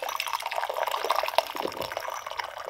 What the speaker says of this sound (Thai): เราจะเอาน้ำอุ่นลงมาก่อน